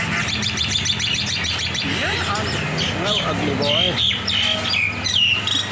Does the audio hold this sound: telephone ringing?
no